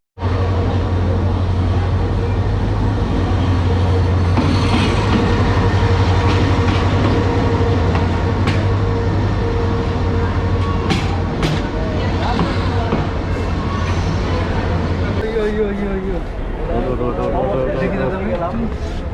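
A passenger train runs on the rails at a station on the Dhaka to Kishoreganj route, giving a steady, loud low rumble with rattling clatter that shifts near the end, while people talk over it.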